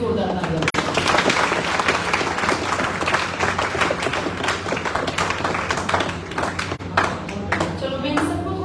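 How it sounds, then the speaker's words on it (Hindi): Audience applause at a coaching institute's celebration of selected students, a dense, steady patter of clapping hands filling the room, with voices talking over it. "इनके लिए जोरदार तालियां।"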